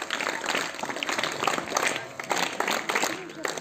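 Schoolchildren in a classroom clap in unison in a quick cheer for a correct answer, with short bursts of clapping mixed with voices.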